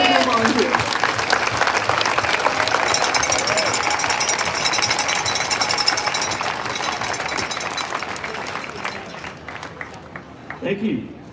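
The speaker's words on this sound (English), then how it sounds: "if you could all join in a round of applause for our wonderful volunteers" A large outdoor crowd applauding volunteers at a cycling team presentation in Victoria Square, a sustained dense roar of clapping and cheering that slowly fades, with a voice starting to speak at the end.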